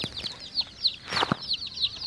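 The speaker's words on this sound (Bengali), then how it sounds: "একটা মুরগি, এই ঝুড়ির ভিতরে আরেকটি মুরগি আছে" Chickens, one sitting in a basket, give quick, faint, high repeated calls in a steady run, with a short burst of wing flapping near the middle.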